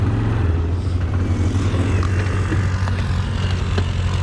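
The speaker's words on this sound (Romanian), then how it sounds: "Ia să urc pe aici cu motor." An ATV engine labors steadily as it climbs uphill on a forest trail, a loud, continuous low drone with a rough throb that holds close and even throughout.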